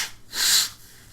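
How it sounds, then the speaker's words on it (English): A person blows their nose once, quickly and close by, a short breathy honk lasting about half a second. "I just blow my nose really fast."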